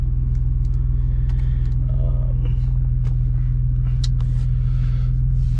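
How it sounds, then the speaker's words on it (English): A cold Audi S4 with a DSG transmission idles while warming up, a steady deep rumbling engine note, close and constant, with occasional faint clicks above it. "We are going to warm up the car first thing first because it's cold as shit"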